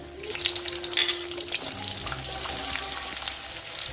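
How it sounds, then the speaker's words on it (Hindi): Onions go into hot oil in a kadhai and fry with a steady, close sizzle and crackle, with occasional light stirring scrapes, at moderate volume. "अब मैं इसमें प्याज ऐड करूंगी"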